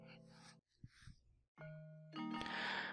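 A school bell chimes in a visual novel game, a short bright ding-dong tone that rings out near the end after earlier soft tones and brief quiet gaps, with no talking.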